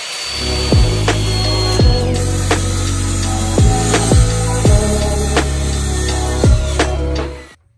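A power tool cuts plywood slats for a slide-out booth table in a shuttle bus renovation, giving off a loud, continuous whine close by, with repeated brief dips in pitch as the blade bites into the wood.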